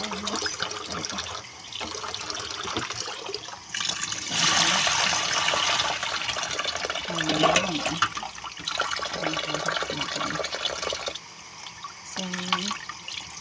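Tap water running and splashing while squid is strained and rinsed, loud gushing bursts alternating with quieter trickles and handling sounds, with brief speech.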